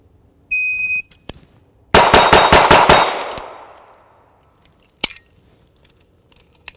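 A shot timer beeps, then a pistol fires a rapid string of about six loud shots around a barricade in a competition drill, echoing and decaying, followed by a single sharp bang.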